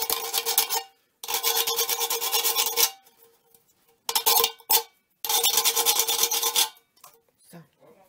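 A nail file rasps back and forth across the cut edge of a metal can, a craft tin being shaped into a crown. The strokes come in loud, steady bursts separated by short pauses, close up, with no talking.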